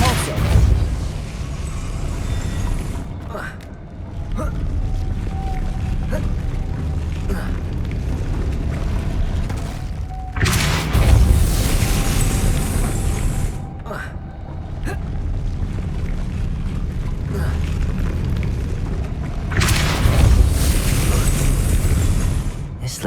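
Depulso spell blasts in the video game Hogwarts Legacy, heavy booming bursts that recur several times over a dense rumbling game soundscape, with a voice talking at intervals.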